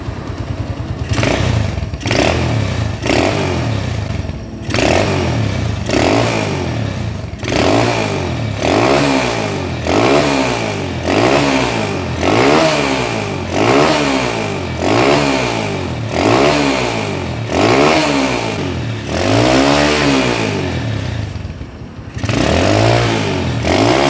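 A Honda GL motorcycle engine is revved in place, repeated rising and falling throttle blips in a steady rhythm, loud and close, with a brief dip near the end and no talk.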